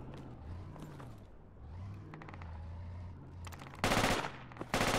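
Gunfire in the military video game Project Reality: a low vehicle engine drone rumbles, then a loud, rapid burst of automatic fire erupts near the end, followed by a short extra shot.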